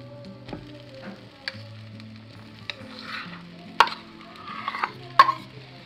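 Potato stuffing for samosas with cumin, garlic-ginger paste, coriander powder, garam masala, red chilli and chaat masala in a pan, with a soft sizzle under occasional stirring and sharp clicks of a spoon against the pan, no talk.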